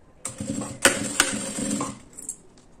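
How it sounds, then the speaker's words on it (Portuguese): A sewing machine stitching close to the teeth of a zipper with a zipper foot while making a card wallet, a short run of quick mechanical whirring and clicks with a couple of sharp taps, close and alone. "eu vou fazer uma costurinha bem rente aos dentinhos do zíper com o meu calcador ainda de zíper"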